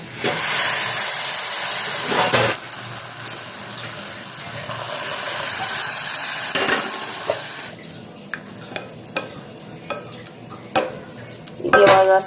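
Vegetables simmer in milk over a low flame in a pot for a kids' juice, giving a steady close hiss with occasional stirring scrapes and light clinks of utensil on pan.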